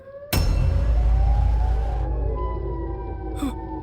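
Siren Head's siren-like call in a horror video game, a sudden loud blaring wail that starts abruptly, sustains heavily with deep rumble, then tapers into lingering wavering tones.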